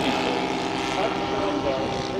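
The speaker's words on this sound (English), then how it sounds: "Red triplane in off." A red triplane RC model aircraft engine drones with a steady buzzing tone at a display of WWI scout and fighter RC warbirds, continuous and fairly close, with people talking over it.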